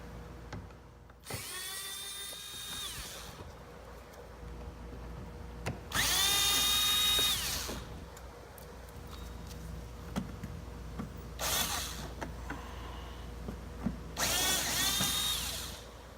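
A power drill backs out Phillips screws from the front bumper cover of a 2018 Honda Accord, in four separate whirring bursts of a few seconds each with quiet gaps between, close and clear.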